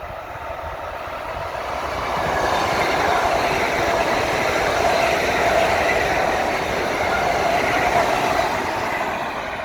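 A new electric commuter train rolls past with a loud, broad rushing roar that swells over a couple of seconds and then holds steady and close, with no voices.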